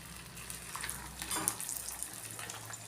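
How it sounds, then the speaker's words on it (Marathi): Upvas puris frying in hot oil, a steady faint sizzle with a few soft crackles and light utensil clinks throughout. "त्यामध्ये आता आपण या पुऱ्या सोडूयात"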